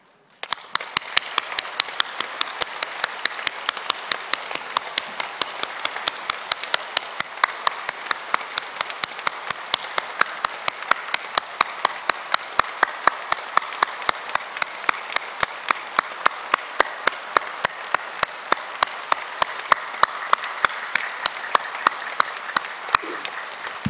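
A church congregation at a Christmas service claps in a long, rhythmic unison, sharp regular beats repeating quickly and steadily for over twenty seconds, loud and close in a reverberant hall.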